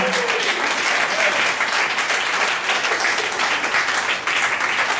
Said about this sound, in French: Et nous allons acclamer fortement le Seigneur.